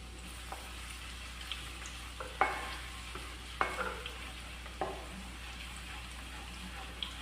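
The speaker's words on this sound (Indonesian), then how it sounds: "kita goreng sampai dia kecoklatan saja ya" Sliced shallots frying in oil over low heat in a home kitchen, a soft steady sizzle punctuated by a few sharp stirring clinks and scrapes, no talk.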